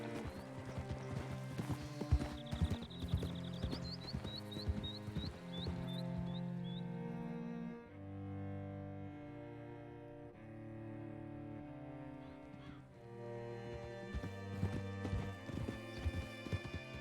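Horse hooves clip-clopping at a steady walking rhythm in the Western video game Red Dead Redemption 2, mixed under orchestral music and ambient game sound.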